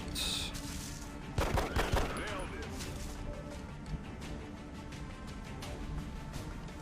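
Gunfire in the turn-based strategy game XCOM: Long War, with a sharp burst of shots near the start followed by a sustained noisy rumble of game sound.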